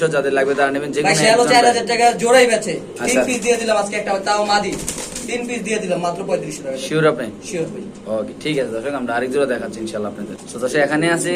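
Pigeons, including a large male, coo softly in the background while someone talks loudly over them throughout.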